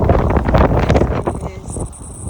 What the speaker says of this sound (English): Ooh, it's windy today, sorry.